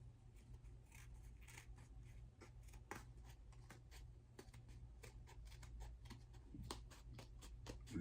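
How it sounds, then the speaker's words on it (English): Scissors snip repeatedly in quick, irregular clicks, close by over a low steady hum, with no talking. "So we're gonna take our scissors,"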